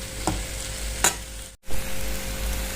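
Coriander is stirred into a raw tomato chutney with a couple of sharp spoon clacks against the pan over a low sizzling hiss, then a brief silent cut before the hiss resumes.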